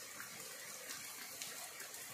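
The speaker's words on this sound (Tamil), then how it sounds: "அடைச்சு மழை பெஞ்சுக்கிட்டு இருக்கு" Heavy village downpour: a steady, dense hiss of rain pouring continuously at even loudness, with no talk.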